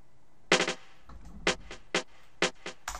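Snare drum pattern in an FL Studio hip-hop beat, sharp crisp hits in quick clusters and singles with soft bass thumps underneath, no voices.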